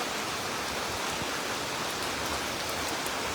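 Steady rain falls continuously, a dense even hiss of drops with no voices, close and fairly loud throughout.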